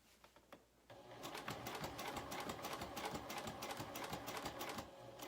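A sewing machine stitches the seam of a zipper pouch. After a few quiet clicks it starts up and runs in a fast, steady mechanical patter for several seconds, close and clear.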